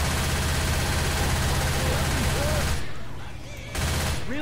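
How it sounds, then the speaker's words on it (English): Video game gunfire rattles in a steady rapid stream over a droning engine-like hum, breaks off briefly, then starts again. "I'm gonna try to shoot."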